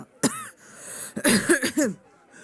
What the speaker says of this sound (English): she'll do, like, a little bit of a cough